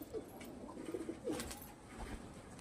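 Pet pigeons coo softly in a few short, low throaty phrases against a quiet, steady background, with no talking.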